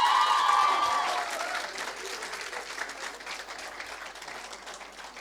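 Loud applause from an audience at a Sanskrit festival ceremony, a dense clapping wash that swells at the start and then settles into steady, slightly softer clapping as guests are introduced.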